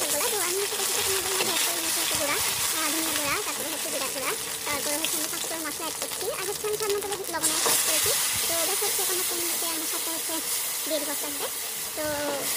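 Garlic and potatoes sizzle in hot oil in a home kitchen while a mashed taro-leaf dish is being made, a steady close hissing crackle with someone talking over it throughout.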